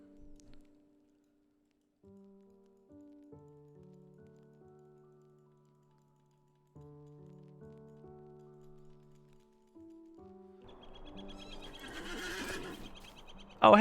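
A horse neighs in The Lord of the Rings Online, a loud, rough whinny rising near the end after a stretch of soft, gentle game music.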